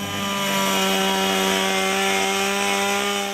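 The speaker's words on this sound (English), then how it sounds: "you're carving with the chainsaw, and it's simple as that" Chainsaw carving wood at a woodcarving display, a steady loud motor drone holding one pitch throughout with no voices.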